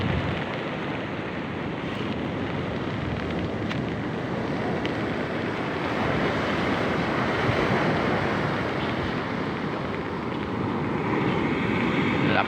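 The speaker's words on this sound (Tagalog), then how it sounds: "Laking alon sa laot kitang kita yung bahura" Big sea waves break and wash continuously near a reef, a loud steady roar of surf mixed with wind buffeting the microphone.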